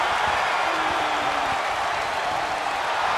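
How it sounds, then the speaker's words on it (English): A loud, steady roar from an arena crowd in a wrestling video game fills the air, a continuous wall of cheering noise that holds at the same level without break. "The sound of this crowd is deafening, and he's asking for more"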